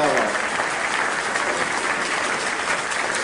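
An audience at a Hindi poetry recital breaks into dense, sustained applause, a steady wash of clapping from many hands that holds evenly throughout.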